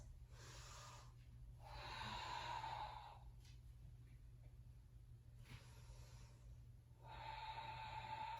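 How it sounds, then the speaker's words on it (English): Slow, audible ocean-like ujjayi breaths, long hissing inhales and exhales alternating in a steady rhythm, close and soft, with no talking. "Ujjayi breathing."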